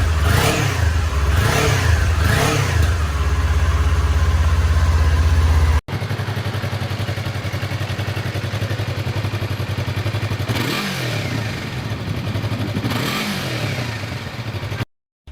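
Two lightweight sport bikes, a Kawasaki Ninja 400 and a Yamaha YZF-R3, both on stock exhausts, rev one after the other in loud close blips that rise and fall, followed by a steadier idle drone.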